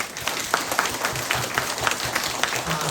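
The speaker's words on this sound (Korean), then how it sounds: "여러분, 하느님께 박수 쳐야 되겠죠" A church congregation applauds during a Saturday prayer meeting, a steady bed of clapping with some louder individual claps and faint voices mixed in.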